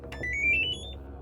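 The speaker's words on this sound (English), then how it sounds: "the device beeps a few times before letting out a long drawn-out beep" A thin electronic tone rises slightly and holds as one long beep, faint and alone.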